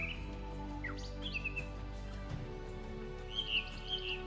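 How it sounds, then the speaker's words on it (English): Jungle birds at dawn in Nepal, a few clear chirps and whistled phrases scattered over a soft, steady background hum, faint and somewhat distant. "the melodious song of jungle birds peacefully announce the beginning of a new day of life"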